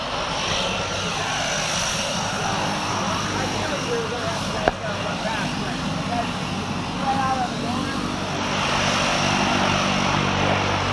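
A propeller-driven skydiving jump plane's engine drones steadily at the USPA National Skydiving Championships, a loud continuous roar with wind noise and voices in the background.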